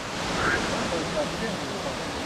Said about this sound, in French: La voilà, la belle cascade.